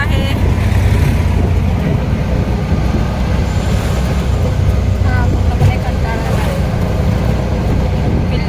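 An auto-rickshaw engine drones steadily and loudly from inside the cabin during a ride, with road rumble throughout and voices talking over it.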